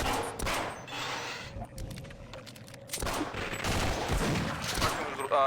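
Rapid bursts of automatic rifle fire in Half-Life, loud and dense, with repeated sharp volleys continuing throughout.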